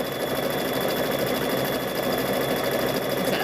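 A sewing machine stitches a thread catcher, a loud, dense mechanical whir with fast rhythmic needle chatter running continuously up close, with no voices.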